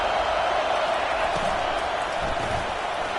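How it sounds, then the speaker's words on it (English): Dense, steady roar of a college football stadium crowd during a Florida State vs Florida game, fans building noise behind the defense on third down; loud, continuous and close-sounding throughout. "Decibels rising as the crowd gets behind this defense on third down."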